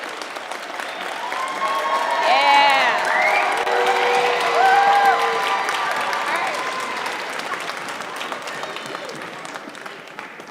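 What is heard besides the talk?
audience applause for sixth graders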